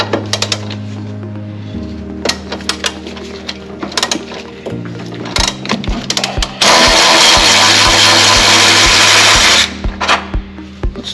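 Power tool removing the main motor mount bolt on a 1999 Honda Civic Si during GSR transmission removal, loud whirring and rattling bursts close up, with one sustained hard buzzing stretch near the end.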